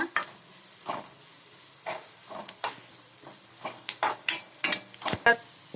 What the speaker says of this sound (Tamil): இப்போ எடுத்து வச்ச புளியும் வெள்ளைப்பூடியும் சேர்த்துக்கோங்க. இதே நல்லா வதக்கிக்கோங்க.